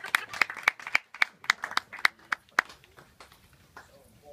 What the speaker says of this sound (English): Applause to Joe, come on.